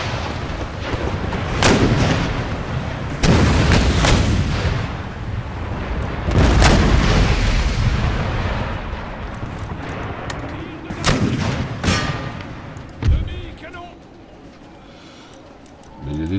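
Several heavy cannon blasts firing canister shot boom one after another, each a sharp loud crack with a rolling tail, amid battle noise in the video game Empire: Total War.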